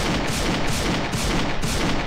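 Rapid automatic gunfire from a first-person shooter game, loud and close, with evenly spaced shots in a fast, steady rhythm and no talking.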